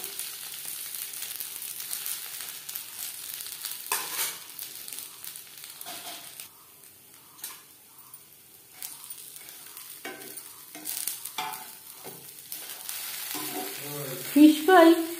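Fish pieces fry in hot oil in a pan and are turned over several times, making soft, uneven sizzling and stirring sounds at a fairly low level, with no talking.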